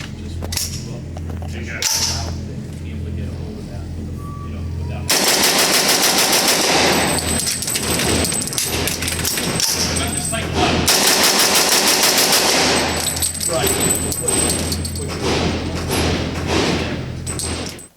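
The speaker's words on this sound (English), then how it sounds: "see how fast I can shoot this gun, change out the magazine, get it back in action" Rapid semi-automatic fire from a Heckler & Koch USC rifle, the civilian UMP45, at an outdoor range, loud dense volleys of shots with a brief pause for a magazine change before another fast string, close and continuous.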